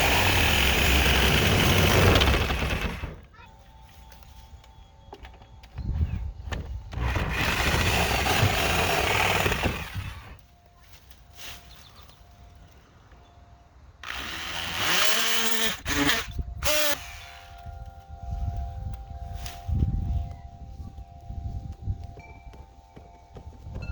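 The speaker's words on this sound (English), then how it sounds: "I may use my oscillating saw to just get the rest of that." An oscillating saw cuts into a rotten wooden window sill on a 1785 colonial house in three loud buzzing bursts of a few seconds each. A low hum and small knocks fill the pauses, and no one speaks.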